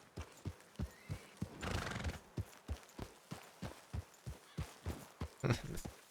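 Horses in a video game, hooves clip-clopping in a steady walking rhythm close by, with a loud neigh partway through and another whinny near the end.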